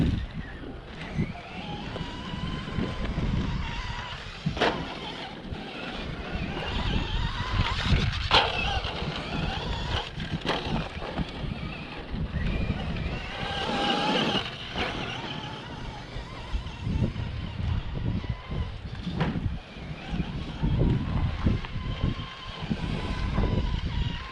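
A Traxxas Stampede 3606 RC truck runs on an outdoor track, its small electric motor whining and rising and falling under steady wind and rumble, moderately loud throughout.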